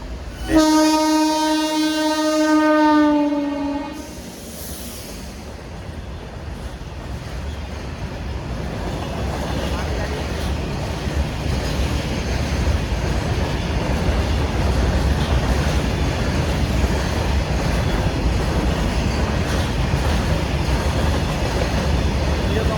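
A train at Khalitipur Railway Station on a foggy morning sounds a long, loud horn, then rumbles past as a steady, heavy roar of wheels and wagons that builds and holds.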